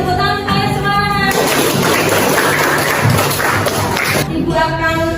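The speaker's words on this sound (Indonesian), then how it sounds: "Tepuk tangan kalian semangat." Classroom full of students clapping their hands together in a sustained burst of applause, dense and loud for several seconds, with a teacher's voice speaking before and after.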